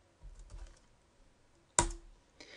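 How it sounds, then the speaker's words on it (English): Keystrokes on a computer keyboard as the ls command is typed: a few soft, scattered taps early on, then one sharp, loud key click near the end, with quiet gaps between and no talking. "We can look at the contents of this folder by typing the ls command."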